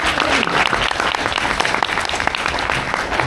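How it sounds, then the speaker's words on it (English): A Toastmasters club audience applauds for Michelle, steady dense clapping that stays loud and close throughout, with some voices mixed faintly into the crowd noise. "can we have a big round of applause for Michelle?"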